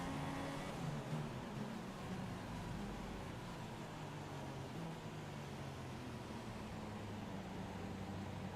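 Formula 1 race cars in the F1 2016 video game idle and rumble as they line up on the starting grid, a steady engine drone with a low hum and no talking.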